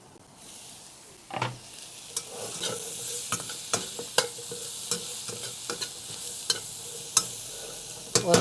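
Vegetables fry on low heat in a Concord wok with a soft, continuous sizzle, punctuated by regular scraping clicks as they are stirred, and no voices.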